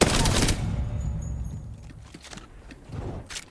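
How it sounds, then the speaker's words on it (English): Bursts of rapid gunfire from a video game weapon fired from the hip, loud at the start and returning near the end, with softer game noise in between. "If I'm hip firing this guy and I jump, I hit less shots because my hip fire widens as I jump."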